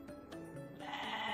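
Newly arrived sheep bleat in a pen, several overlapping calls rising and falling in quick succession, fairly close and loud with no talking.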